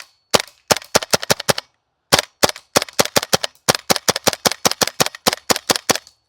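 A GHK G5 gas blowback airsoft rifle fitted with a RogueWorx Zenith kit fires BBs in sharp, loud, close cracks, in rapid bursts of several shots with brief pauses and no voices.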